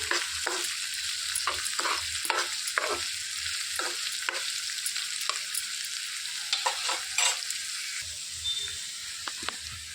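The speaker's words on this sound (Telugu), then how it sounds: "ఇందులో సన్నగా కట్ చేసి పెట్టుకున్న ఉల్లిపాయలు వేసేసుకోవాలి. సిమ్లో పెట్టుకొని వేయించుకోవాలండి." Thinly sliced onions fry gently on low flame in a pan, a soft steady sizzle broken by frequent crisp clicks of a spoon stirring against the pan, close and fairly quiet, with no talking.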